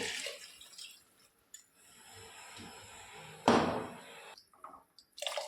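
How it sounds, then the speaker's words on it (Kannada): Water splashes and pours into a cooking pot in short bursts, with one louder gush in the middle and a brief clunk, close by. "ಈಗ ಇದಕ್ಕೆ ನಾನು ನೀರು ಹಾಕ್ತೀನಿ."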